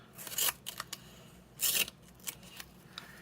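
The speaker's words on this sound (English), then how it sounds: "This is gonna gum up my scissors." Scissors snip through adhesive paper in short crisp cuts, two longer rasping strokes and several quicker snips, close up with no speech.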